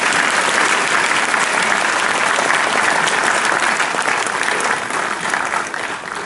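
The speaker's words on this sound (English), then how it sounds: "Please join me in a round of applause for the Commandant's List awardees." Loud, sustained applause from a large audience at a U.S. Army Drill Sergeant Academy graduation ceremony, dense clapping throughout that fades slightly toward the end.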